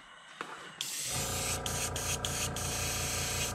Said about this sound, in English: I'll spray this off for a little bit to rest and get this brush completely emptied out.